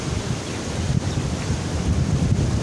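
Water rushes through the Head Munda Branch canal, a loud, steady roar of flowing current filling the whole stretch without pause, with no voices over it.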